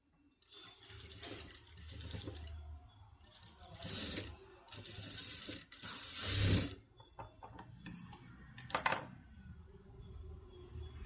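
A sewing machine stitches along the edge of a princess-cut boat-neck blouse, running in several close bursts of rapid mechanical clatter with short pauses between them, and no one speaks.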